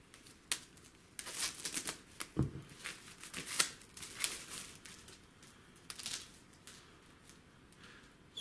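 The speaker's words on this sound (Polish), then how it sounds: "Audiobook zapakowany jest w folię. Dobierzmy się do środka." Plastic film being peeled and crinkled off an audiobook package holding a small booklet and two CDs, with close, irregular crackling bursts and rustles, no talking.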